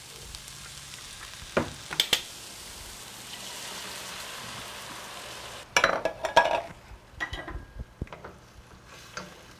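A whole can of pigeon peas goes into a hot pot, bringing a soft steady sizzle broken by clattering, splashing bursts and scraping stirs close up, with no talking.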